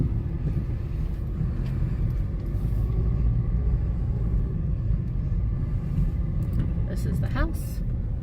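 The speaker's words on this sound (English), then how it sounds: "So that's a really busy street." Steady, loud rumble of car traffic on a busy street near a 1960s house, a continuous wash of passing engines with a faint, high whine near the end.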